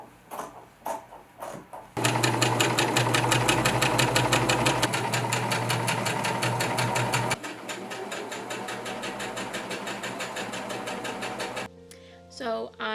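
A sewing machine hums loudly and continuously for nearly ten seconds while hemming the edges of a fabric tablecloth. Its pitch shifts partway through, with brief clatter before and after the run.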